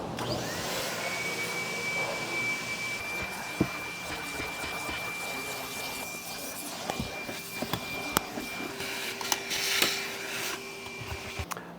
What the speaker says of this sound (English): just kind of do a quick vacuum, make it look presentable